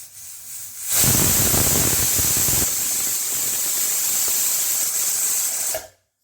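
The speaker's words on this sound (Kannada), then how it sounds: "ಇದು ಕೂಗ್ತಾ ಇದೆ, ಒಂದೇ ಒಂದು ವಿಜಿಲ್ ಸಾಕು" A pressure cooker on a stove, cooking sambar, lets out one long loud whistle with rushing hissing steam that starts abruptly, holds steadily for about five seconds, then cuts off, with no talking.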